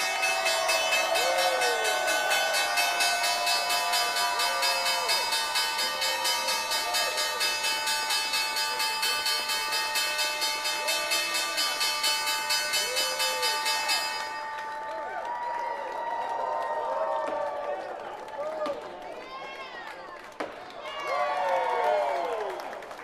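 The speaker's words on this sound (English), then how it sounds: "Ticker symbol HLIO here at the NYSE to ring the bell." The opening bell at the New York Stock Exchange rings as a loud sustained metallic tone over a cheering, applauding crowd, then cuts off, leaving crowd noise and chatter.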